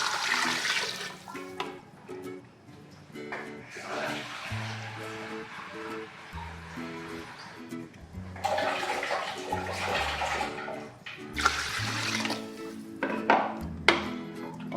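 Water, about 1 to 1.5 litres, gushes and splashes steadily into a pressure cooker for chicken broth, rushing loudly at times, while background music with a repeating melody plays throughout.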